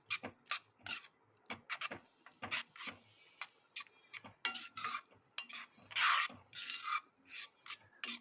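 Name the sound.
stirring cucumber spinach curry in pan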